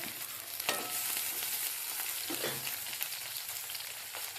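Onions fry with curry leaves and coriander in a village kitchen while making tomato egg curry, a soft, steady sizzle with occasional scraping stirs, fairly quiet and without voices.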